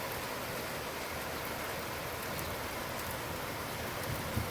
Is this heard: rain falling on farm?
yes